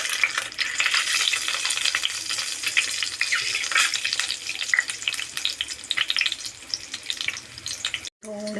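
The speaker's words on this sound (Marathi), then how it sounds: "अशा प्रकारे आपण हे का कट केलेली अंडी फ्राय करून घेणार आहोत" Cut boiled eggs fry in a pan of hot oil, a steady close crackling sizzle that runs continuously and cuts off abruptly near the end.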